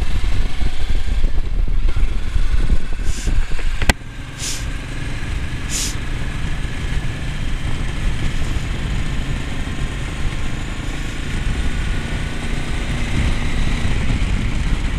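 A Royal Enfield Meteor 350 motorcycle engine rumbles steadily and fairly near for the whole stretch, with a sharp click partway through and a few brief higher whines above the engine.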